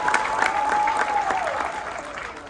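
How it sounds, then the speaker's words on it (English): Crowd applauding a performance at an Orlando Pirates sports facility donation event in Soweto, dense clapping with a faint tone gliding beneath it. "Another round of applause, please, for the mighty performance."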